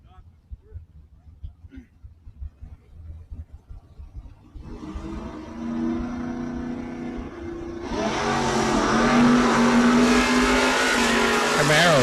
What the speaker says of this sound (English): Camaro trying to run down the Oldsmobile. Doesn't get there.